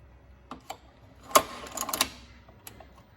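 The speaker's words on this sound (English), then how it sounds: "bring the needle down, we can position it right in the hole and make a reverse stitch like that." A Cowboy Outlaw leather sewing machine stitches leather with an LR needle, giving a few sharp mechanical ticks and then a short busy burst of stitching, close up, with no talking.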